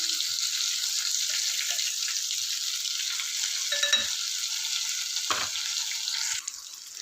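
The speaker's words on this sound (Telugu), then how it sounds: "లోపలంతా కూడా మగ్గుతుంది, పైన అంతా కూడా చక్కగా ఇలా వేగుతుంది" Brinjal (eggplant) pieces fry in a pan with a steady, even sizzle that holds for several seconds, broken by a couple of brief clinks near the middle before it quiets slightly at the end.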